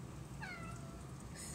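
A house cat meows once in a rising, wavering call, fairly close over a low steady kitchen hum while a pot simmers nearby.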